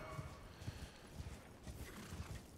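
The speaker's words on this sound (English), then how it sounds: "Let's heal my horse some." Hooves of a horse in the video game Elden Ring clip-clop in a steady, moderate trot under a soft ambient background, fairly quiet and continuous.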